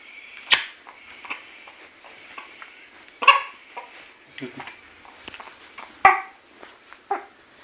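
A dog gives a few sharp, separate barks spaced several seconds apart, fairly close, while a person talks softly in between.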